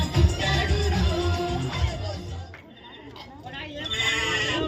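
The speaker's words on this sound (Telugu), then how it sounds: "మేకలు వస్తున్నాయి." Goats bleat near a church, several overlapping calls sounding close and loud over background voices and chatter, with a brief quieter gap before the bleating picks up again.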